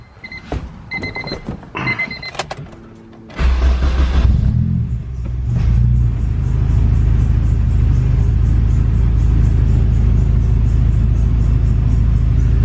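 A few clicks and rattles, then a naturally aspirated K24 engine swapped into an EK Honda hatchback cranks and catches, settling into a loud, steady rumble close by.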